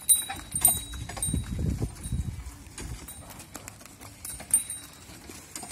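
Horse-drawn cart in Dindigul, its hooves clip-clopping at a steady walking rhythm close by, with street noise behind and a heavier low rumble of the wheels in the first seconds.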